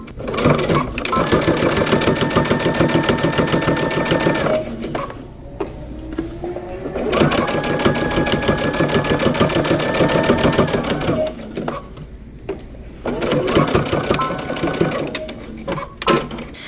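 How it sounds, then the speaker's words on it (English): Sewing machine stitching a long coat flap at a 3/8 inch seam allowance, running in three steady bursts of rapid, even needle clatter with short pauses between them, close and loud. "I'm going to go ahead and place my presser foot down, and I'm going to stitch"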